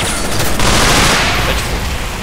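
A grenade blast and heavy gunfire in the horror shooter game Underhell form a loud, dense, continuous barrage of rapid shots with a boomy rumble, close and without speech.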